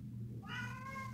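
A house cat gives a single clear meow, starting mid-clip and trailing off, fairly faint and alone over a low indoor hum.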